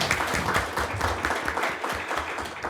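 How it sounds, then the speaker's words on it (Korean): An audience at a naval policy forum applauds to welcome a speaker, moderate continuous clapping at a steady level. "큰 박수로 맞이해 주시기 바랍니다."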